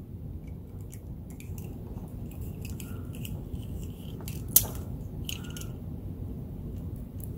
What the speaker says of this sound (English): I'm just going to take the knife.